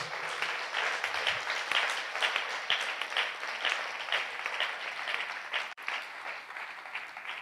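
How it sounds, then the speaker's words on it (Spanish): A congregation at a Spanish-language church service claps loudly and steadily, applauding God, with a brief sharp knock near the end. "Vamos a dar un fuerte aplauso a Dios por su obra"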